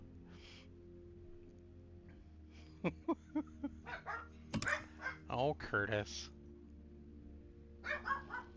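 A pet dog barks in a burst of sharp, close yelps and growls indoors, separated by short pauses, beside keyboard typing, with a person speaking briefly.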